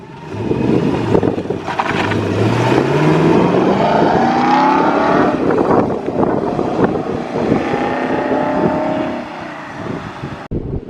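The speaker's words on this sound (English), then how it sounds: "Got TVR leaving now." A TVR sports car pulls away from a classic car show, its engine revving up through rising gears in a loud, close burst before fading as it leaves.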